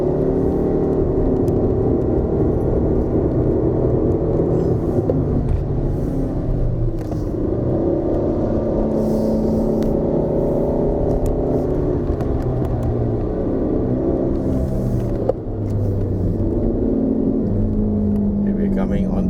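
A 107-horsepower 2019 Proton Persona with a CVT runs flat out climbing the Genting hill road, its engine droning loud and steady from inside the cabin, with one brief dip partway through.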